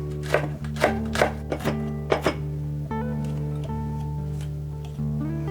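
Two Cheongyang chili peppers being cut with a knife for braised eggplant, about seven crisp chops in an uneven rhythm, close and fairly loud over a steady background hum, then a few soft ticks.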